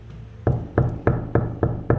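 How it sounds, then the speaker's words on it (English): Six evenly spaced knocks on wood, firm and close, land in a steady rhythm over a faint low background hum, with no talking. "knock on wood"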